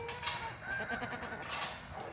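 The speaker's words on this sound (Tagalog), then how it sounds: "Umuwi na yung kambing namin." Goats bleat as they come home from the pasture, several short, wavering calls, one near the start, one in the middle and one late, over a quiet outdoor background.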